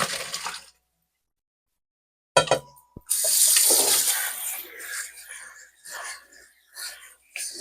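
Boiled rigatoni pasta drained into a kitchen sink, a brief burst of pouring water and splashing after a pause, then continued rushing water with faint clatter, close and moderately loud.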